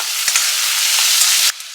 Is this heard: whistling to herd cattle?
no